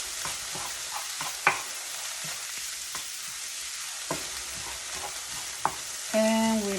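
Garlic frying in a pan makes a close, steady sizzle punctuated by sharp clicks and scrapes of a utensil stirring, ending with a brief tonal hum near the close.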